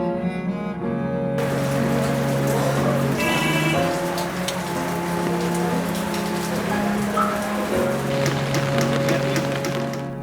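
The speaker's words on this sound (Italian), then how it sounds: "la pioggia è stata una costante della nostra visita e ci ha accompagnato per quasi tutto il giorno" Heavy rain pours along the Jhelum River and through the colourful bazaars of Srinagar, a dense, constant hiss of drops pattering on surfaces that stays loud and unbroken throughout.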